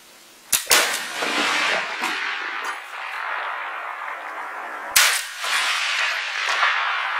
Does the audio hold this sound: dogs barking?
no